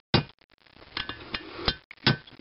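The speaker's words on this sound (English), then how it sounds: "where I decided to chisel it is actually the thickest part of the housing" Chisel struck by a hammer against a rusty IHC engine housing, giving several sharp metallic whacks with ringing clinks at an uneven pace, close and loud.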